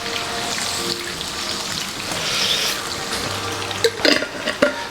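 Tomato sauce goes into a pan of frying garlic and chili, a soft steady sizzle that swells briefly, followed by a few clinks and scrapes of stirring near the end.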